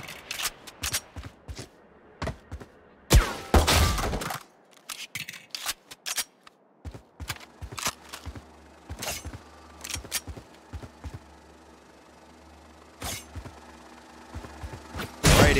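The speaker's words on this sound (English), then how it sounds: "Now shoot that flying target for me." Valorant gunfire at training targets and bots: sharp shots come in single cracks and quick bursts separated by short pauses, with a loud cluster partway through and faint mechanical clicks between them.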